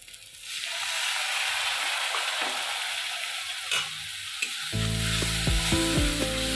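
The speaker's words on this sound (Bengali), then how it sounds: "ভালো করে মশলাটাকে কষে নেব।" Spice paste with Kashmiri chilli and a splash of water fries and gets stirred in a pan for a Bengali bata fish curry, a steady close sizzle with scraping spoon strokes growing louder and clattering near the end.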